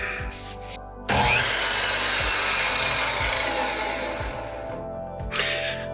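A newly repaired handsaw, unguarded, cuts through wood in a workshop while building a crate, with a steady rasping stroke that runs loud and continuous for about four seconds after a short pause, then stops.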